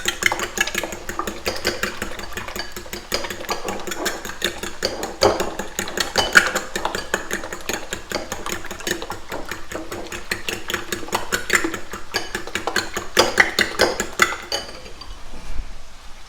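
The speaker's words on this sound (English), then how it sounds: "So beating these eggs here." Eggs are beaten in a bowl with a rapid, steady clinking of utensil against the bowl, repeating quickly and evenly for several seconds before stopping near the end.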